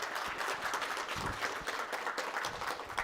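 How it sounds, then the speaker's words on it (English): Steady applause from an audience at a tech conference talk, dense clapping throughout with no voices over it. "And everybody give a round of applause for Gina."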